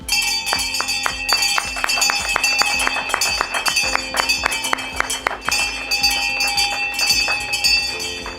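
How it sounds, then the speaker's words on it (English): Brass bells ring loudly and repeatedly at a stock exchange opening bell ceremony in May 2019, many overlapping clangs with bright metallic overtones, steady and dense throughout without talk. "I will give it a nice countdown from 3, and then we'll ring the bells."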